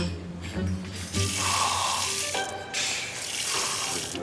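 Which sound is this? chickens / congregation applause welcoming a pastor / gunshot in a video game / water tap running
water tap running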